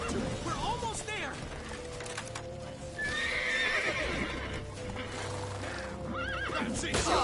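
A horse in the Witcher 3 video game gallops with steady clip-clop hoofbeats and neighs several times, while voices shout over the action.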